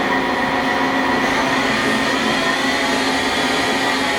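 An SNK SUT-50 CNC turning center with a FANUC 11TA control runs its spindle at 500 RPM, giving a steady, loud, broadband mechanical whir with a constant tonal hum and no pauses.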